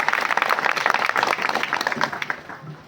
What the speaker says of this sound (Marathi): बाबांसाठी एकदा आपण सर्वांनी टाळ्या वाजवायच्या आहेत.